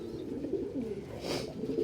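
A hand-raised pet pigeon coos softly and close by, a low murmuring call that swells into one louder coo partway through, with no talking.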